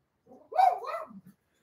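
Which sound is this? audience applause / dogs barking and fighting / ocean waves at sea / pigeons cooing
dogs barking and fighting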